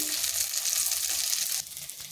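Pumpkin pieces frying in a pan give a close, steady, crackling sizzle that drops slightly softer near the end.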